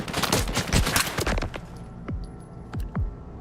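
Gunfire in the video game Stalker 2, a quick fusillade of shots that gives way to a few spaced single shots, sharp and close.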